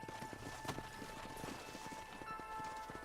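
Horses' hooves clip-clop in quick, uneven rhythm on open ground in the Western video game Red Dead Redemption, steady and fairly close, with a thin sustained musical tone running underneath and a louder burst right at the end.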